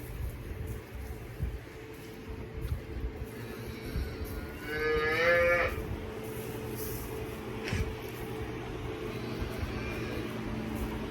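A calf gives a single drawn-out moo partway through inside a calf barn, heard over a low steady hum of barn machinery and faint rustling.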